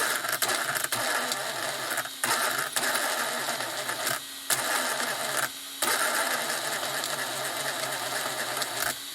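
Electric motor of a Hobao Hyper7 RC car roller turns over with a continuous whirring drone, briefly cutting out a few times before spinning back up, close and steady.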